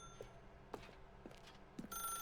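Telephone ringing inside The Stanley Parable, a quiet electronic bell pattern heard faintly in short repeated bursts over a low steady room hum, with no voices.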